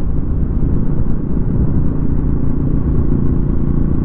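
A Royal Enfield Bullet Classic 350 BS6 motorcycle at full throttle near 100, giving a steady, loud, low engine rumble with road and wind noise throughout, with no talking.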